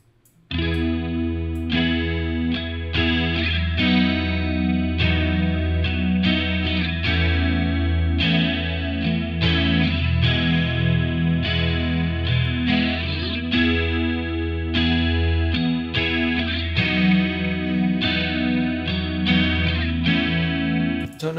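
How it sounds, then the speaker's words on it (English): Electric guitar runs through a Boss-style chorus ensemble plugin, giving a thick, shimmering, slightly driven tone as chords and riffs are played continuously and loudly for about twenty seconds with no talking. "That is one hell of a chorus sound."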